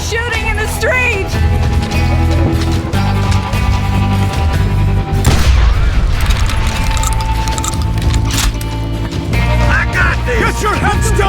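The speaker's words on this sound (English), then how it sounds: "They're shooting in the street!" Gunfire rings out in a western street shootout in the video game Call of Juarez: Gunslinger, with loud booming shots and crashes bursting over a continuous music score, and voices talking throughout.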